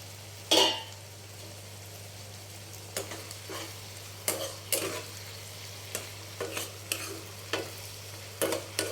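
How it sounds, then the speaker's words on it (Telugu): Tomato pieces softening in a pan, with a low steady sizzle and a hum underneath, broken by scattered scraping stir strokes that come closer together toward the end. "టమాటా ముక్కలు మెత్తబడే వరకు మగ్గించుకుందామండి"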